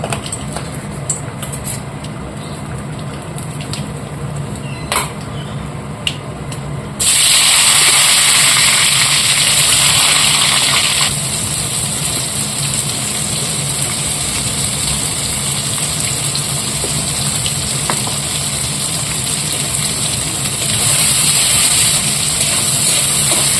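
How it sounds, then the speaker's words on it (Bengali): Whole garam masala spices hit hot oil for tempering, erupting into a loud, steady hiss and crackle that continues without a break over background noise. "দিয়ে দিচ্ছি গরম মশলা ফোড়ন"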